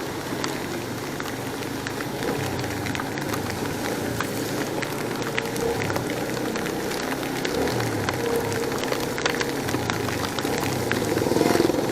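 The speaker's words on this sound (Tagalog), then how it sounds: "Galing sa init, tapos biglang ulan, ano?" Sudden rain pours steadily after hot weather, a dense continuous hiss of drops on surfaces with scattered sharper patters, loud and close throughout, growing slightly heavier toward the end.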